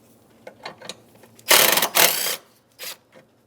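Quick bursts of ratcheting clicks as a ratchet works a 10mm nut off the intake of a 2007-2015 Mazda CX-9, with short pauses between strokes, close and fairly quiet.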